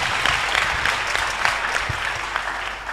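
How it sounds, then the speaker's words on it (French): A church congregation claps loudly and continuously for Jesus, a dense, close wash of applause with a few voices buried in it. "Acclame très fort Jésus."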